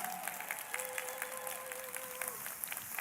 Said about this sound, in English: Give Candy one more round of applause,